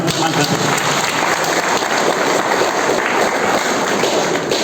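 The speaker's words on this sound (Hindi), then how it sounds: "ताली बजाओ पूरा गांव का" A crowd claps at an outdoor rally in Sikar, loud, continuous dense clapping from many people, with voices mixed in.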